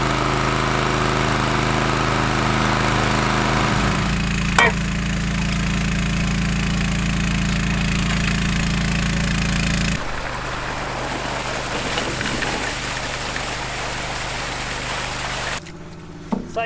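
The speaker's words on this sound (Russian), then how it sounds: "откачиваем на малых оборотах, чтобы вода успевала, вся, которая вокруг трактора собралась, уходить" Water pump running at low revs to drain a flooded pit around a stuck Caterpillar 320DL excavator, a steady loud engine drone that drops to a lower, rougher hum partway through, then cuts off near the end.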